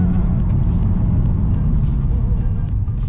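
A Nissan Z car with a freshly installed stage 3 clutch and flywheel drones steadily while being driven, a loud continuous low engine and road rumble with faint hissing bursts on top.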